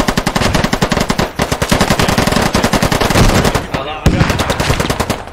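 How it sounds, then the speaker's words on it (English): Sustained automatic gunfire from the video game Squad, with insurgents building defenses at Kohat under heavy fire. Rapid, loud, close bursts run almost without break, with a brief pause before the firing resumes. "just keep the volume of fire up, boys"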